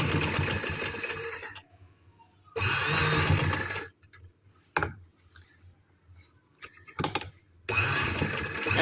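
Sewing machine stitching along the edge of a stylish neckline, running in three loud sustained bursts separated by quiet pauses with a few brief mechanical clicks between runs; no talking.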